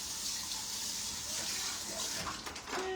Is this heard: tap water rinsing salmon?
yes